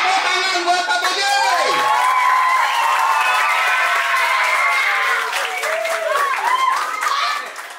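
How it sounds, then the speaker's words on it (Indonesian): A room of participants at a one-day English and character camp in Bekasi claps loudly for a teacher, with cheers and children's voices mixed into the steady applause before it tapers at the end. "Tepuk tangan buat Pak Budi"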